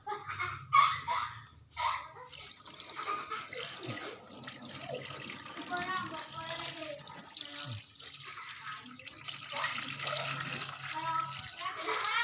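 Coconut water bought from a coconut grater, poured into a container to soak a spear, giving a soft trickling and splashing that runs for several seconds at low level under faint background noise.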